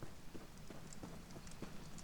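Horse hooves clip-clopping in an Elder Scrolls video game, a soft, quiet series of hoofbeats spaced across the moment under faint ambient background.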